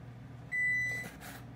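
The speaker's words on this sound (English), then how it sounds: "Our oven's preheating, so it's ready." A kitchen oven beeps once as preheating finishes: a single clear electronic tone lasting about a third of a second, close by over a quiet low hum, followed by a soft clatter.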